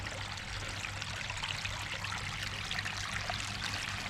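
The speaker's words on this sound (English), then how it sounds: "a quick look at the waterfall, well, the stream rather." Water trickles and splashes steadily in a small koi pond stream, a continuous close bubbling with no voices.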